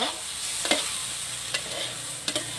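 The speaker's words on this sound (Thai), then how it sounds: "ใส่กระเพราของเราลงไปเลยค่ะ ผัดตับอย่าผัดนานนะคะ" Liver and holy basil stir-frying in a hot pan, a steady sizzle with a few sharp scrape-and-toss clicks from the utensil, close and alone with no talk.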